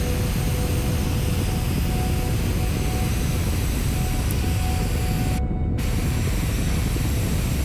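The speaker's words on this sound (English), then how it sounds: "please ignore the afterburner" Afterburner roar from a submarine in Kerbal Space Program, a steady loud broadband hiss with a low rumble that holds throughout, briefly cut out for a moment near the end.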